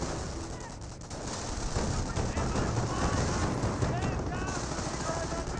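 Dense gunfire crackles continuously at a garrison in Company of Heroes, with bursts of machine-gun fire layered over battlefield noise. A voice runs over the din.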